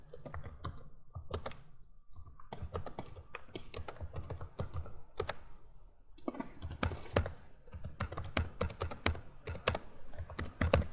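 Words typed on a computer keyboard while creating a text file in a Python lesson: a steady, close run of uneven key clicks with short pauses, and no talking.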